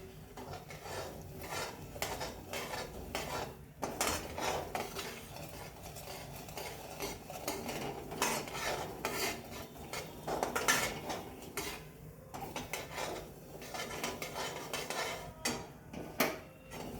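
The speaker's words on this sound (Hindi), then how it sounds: "जब तक रवा ऐसा गुलाबी होता है ना तब तक हिलाते रहने का है" Semolina being stirred as it roasts in a pan for banana halwa (sheera), with repeated scraping and clinking of a spoon against the pan in an uneven rhythm, close and alone.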